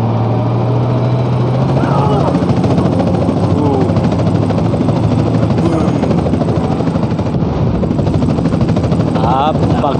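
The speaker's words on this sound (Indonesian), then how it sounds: "ada helikopter mengejar kita guys" Loud, continuous rotor thump and engine roar of a helicopter chasing the player overhead in a video game. The sound stays steady and close for the whole stretch.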